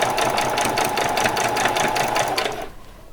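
Sewing machine stitching an old dress being upcycled, a steady fast mechanical rattle of the needle running close by for a few seconds before it stops.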